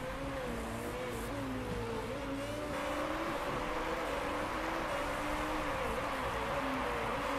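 Racing car engines from Motor Sport Manager at Monaco: a steady, droning, high-pitched engine whine that holds throughout, with the pitch wavering slightly as the cars run along together.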